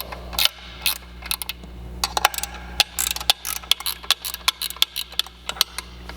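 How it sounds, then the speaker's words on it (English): A 13mm wrench loosens the clamps on a shot blast control cage, giving a close, irregular run of sharp metallic clicks and ratchet-like ticks over a low steady hum. "we're going to loosen the control cage clamps with a 13mm wrench"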